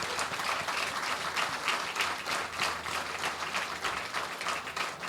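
Sustained applause from a crowd at a Chinese New Year banquet, dense clapping from many hands continuing steadily throughout at moderate loudness with no speech over it.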